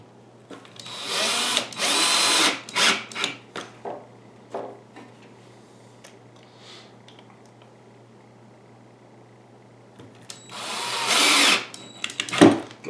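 A power drill drives short screws into a wooden arcade stick box, whirring in several short bursts early on, then falling quiet before one more longer burst near the end.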